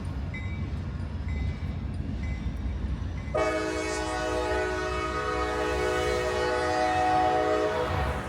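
An LSR freight train hauling cars full of ballast rumbles past a road crossing. After a few seconds of low rolling noise, a loud sustained horn blast sounds for about five seconds over the continuing rumble of the wheels.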